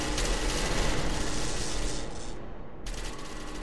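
Dense, rapid automatic gunfire rattles continuously in SCP Secret Lab, loud and close, cutting off briefly before resuming.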